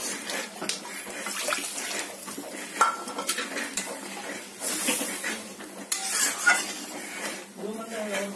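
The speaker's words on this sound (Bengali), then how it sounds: "আর অল্প জল দিয়ে দিচ্ছি।" A little water goes into a pot of mung dal cooking with a fish head, heard as clattering, splashing and stirring against metal cookware. The bursts come and go, close and fairly loud.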